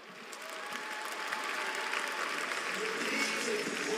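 An audience bursts into sustained applause after a fight, a dense wash of clapping that builds and holds steady, fairly distant and moderate in level.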